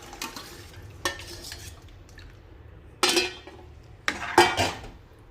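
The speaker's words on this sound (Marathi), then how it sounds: "तर आपण दह्याचं मिश्रण ओतून घ्यायचं आहे." A curd mixture goes into a pan for ghevda kadhi, with a handful of sharp metal clanks and scrapes of vessel against pan over a low, steady kitchen background and no talking.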